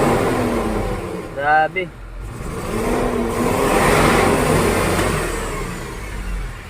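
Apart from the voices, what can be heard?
Isuzu 6HK1 diesel engine revving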